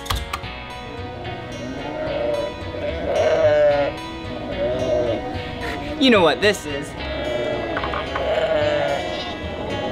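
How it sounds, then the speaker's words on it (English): Sheep bleats ring out several times among animal sounds at a kids' indoor playground, with a voice talking over them and a loud burst near the middle. "That was the sheep."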